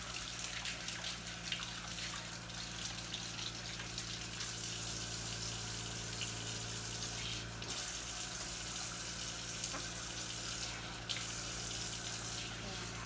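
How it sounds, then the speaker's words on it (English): Cold tap water runs steadily into a kitchen sink during washing-up while making injera, a constant close splashing gush with a low hum beneath it. "I'm gonna wash this one with the cold water."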